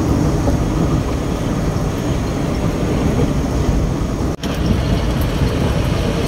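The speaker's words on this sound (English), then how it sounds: "So I'm gonna show you guys the road traffic here" Busy morning road traffic on the route toward San Carlos City, a dense, loud, continuous rumble of passing vehicles with a brief dropout near the end, no voices.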